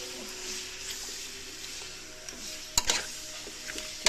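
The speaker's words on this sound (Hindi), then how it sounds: "चिकन का कलर चेंज होने तक हम उसको भून लेंगे।" About 1.25 kg of chicken fries with garlic and ginger paste in a pot, sizzling steadily while a spoon stirs and scrapes with a few sharp metallic clanks near the end.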